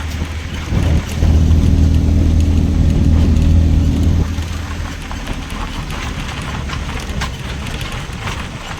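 A sugarcane harvester driven close by gives a loud, low engine drone that swells for about three seconds, then eases into a steadier, quieter rumble.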